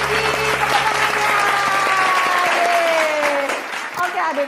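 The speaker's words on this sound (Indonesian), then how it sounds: "Lebih semangat lagi, tepuk tangannya." Children at a GMI Kasih Karunia Sunday school in Pagar Alam clap and cheer together, a dense burst of close applause with a voice talking over it, tapering off near the end.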